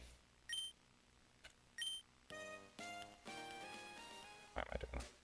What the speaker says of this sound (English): 3 beeps is weird